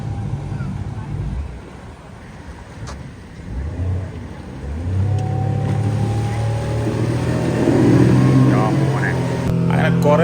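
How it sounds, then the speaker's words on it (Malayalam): A motorboat's engine drones steadily on the water at a park in Kozhikode, rising as the boat passes, loud and close, with people talking over it. "അതാ പോണത് അടുത്ത ബോട്ട്"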